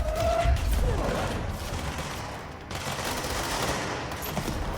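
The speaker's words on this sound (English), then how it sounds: "Stop shooting at me." Gunfire aimed at the player in the video game Control, a dense continuous rattle of shots with a brief dip partway through, loud and close throughout.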